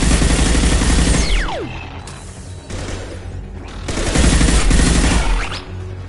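Rapid automated weapon fire rattles in loud mechanical bursts within the Mass Effect 2 video game, mixed with whirring machinery and a descending electronic sweep, swelling and easing over several seconds.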